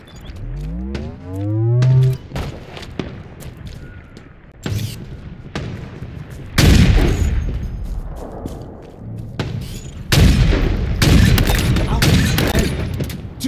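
Gunfire in Halo Infinite: scattered sharp shots early, then dense bursts of rapid automatic fire with thumps and booms, loud and close, with a rising electronic sweep at the start and announcer voice calls between.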